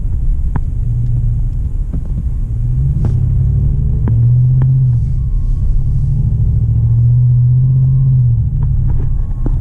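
A 2020 Chevy 2500 pickup with the 6.6-liter gas engine and an MBRP exhaust rumbles steadily near 2,000 RPM. The drone is deep and continuous, swelling in low throbbing pulses, with no voices.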